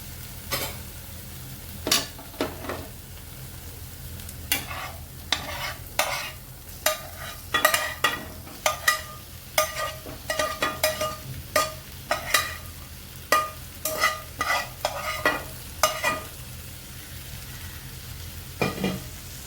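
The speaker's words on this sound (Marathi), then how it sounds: "चांगलं मिक्स करून घेऊया." Fried vegetables stirred into thick masala in a pan: a spoon scrapes in sharp, irregular strokes over a soft, steady sizzle, close and alone.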